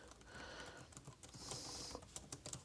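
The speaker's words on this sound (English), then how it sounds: "let me do a keyboard check real quick" Keys clattering on a ThinkPad T490 laptop keyboard in a quick, steady burst of light clicks, close and fairly quiet, with no voices over it.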